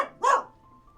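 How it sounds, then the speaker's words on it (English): A dog gives a single short, loud bark close by, followed by quiet. "The dog makes such noises. The dog is so loud."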